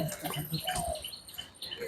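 Pigeons feeding close by, giving soft low coos and brief chirpy calls over faint rustling, a quiet short burst with no voices.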